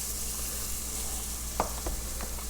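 Onions hitting hot fat in a Louisiana gumbo pot give a loud, steady sizzle close up, broken by a few brief clatters and scrapes as they go in.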